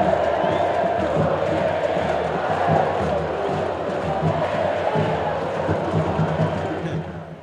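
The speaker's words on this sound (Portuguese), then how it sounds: "É isso aí, a torcida do Palmeiras fazendo a festa na área Barueri." Palmeiras football fans cheer and chant in the stands at Arena Barueri during a Copa do Brasil match against Juazeirense, a dense, steady roar of crowd voices that stays loud throughout.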